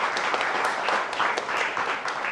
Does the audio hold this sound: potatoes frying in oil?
no